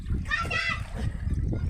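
Children jump into a pool of water with splashes and sloshing, their excited voices mixed in over the short, busy burst of water noise.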